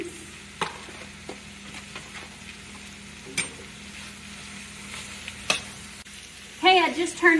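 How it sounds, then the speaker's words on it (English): Vegetables and mushrooms sauté in a skillet of melted butter, a steady close sizzle with occasional stirring clatters and scrapes, then a brighter burst of frying and clinks near the end. "I got about a half a stick of butter that I put in the skillet. I'm gonna go ahead and dump in my vegetables."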